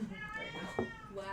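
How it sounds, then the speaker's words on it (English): A cat meows close by, a drawn-out wavering meow heard over people talking in an indoor setting during a livestreamed podcast. "Cat wants to be on the podcast. That was the loudest."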